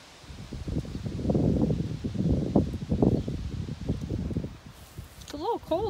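Gusty wind buffets the microphone in low, rumbling bursts, and a brief wavering animal call sounds near the end.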